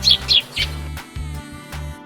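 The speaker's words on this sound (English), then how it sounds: "Sparrow." A sparrow gives a few bright, short chirps in quick succession near the start, followed by a steady low tonal hum for the rest of the moment.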